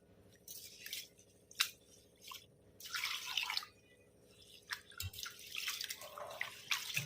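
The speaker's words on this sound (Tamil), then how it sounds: "இதில் தண்ணி ஊற்றி நல்லா ஒரு களைஞ்சி எடுத்துக்கலாம்." Basmati rice is swished and rinsed in water by hand, with intermittent splashing, dripping and sloshing bursts close up over a soft steady background hum.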